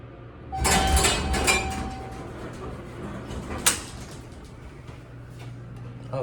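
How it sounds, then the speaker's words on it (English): Doors of a 1975 Dover hydraulic elevator slide along their track but stop short of opening fully, a close rumbling glide with rattles and a sharp clunk partway through, then a lower hum. "Oh, the doors don't open all the way"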